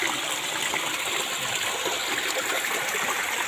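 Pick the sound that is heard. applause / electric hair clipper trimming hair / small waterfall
small waterfall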